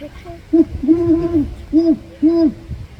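A person's voice imitates the deep four-note hoot of a great horned owl, loud and close, each low note swooping slightly, given in a steady rhythm.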